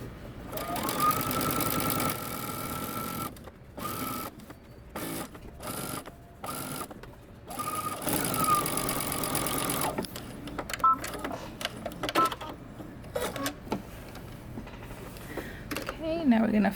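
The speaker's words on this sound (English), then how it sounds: "You're stitching close to the edge." A sewing machine stitches close to the edge in a run of short bursts of motor whir split by brief pauses, then gives way to softer clicks and handling sounds; a voice talks at times.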